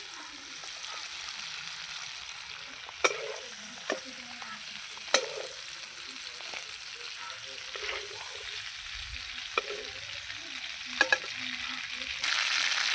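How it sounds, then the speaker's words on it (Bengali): Prawns frying in oil as they are stirred, a moderate steady sizzle punctuated by sharp metallic taps of the spatula against the pan, with a brief louder hiss at the end. "নেড়ে চেড়ে দেবো চিংড়ি মাছটা আমি ভেজে নিয়েছি"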